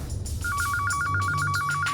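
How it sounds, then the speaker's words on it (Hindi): A telephone rings in a Hindi courtroom drama serial, its electronic trill repeating in quick, even bursts for about two seconds over a low background hum, close and clear with no talk. "उसी समय मिस्टर शिनॉय का फोन आया।"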